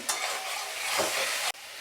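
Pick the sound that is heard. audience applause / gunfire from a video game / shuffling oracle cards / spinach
spinach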